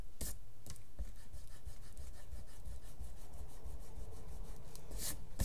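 Pencil line being rubbed out with an eraser on card, quick scratchy back-and-forth rubbing strokes, close and fairly quiet, with no voices.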